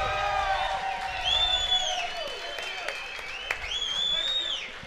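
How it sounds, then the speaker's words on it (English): An audience at a tribute event honoring Navy SEAL Chris Kyle and his brother Jeff Kyle claps steadily, with rising whistles and whoops over the crowd noise and voices mixed in. "Most definitely do not hold your applause back."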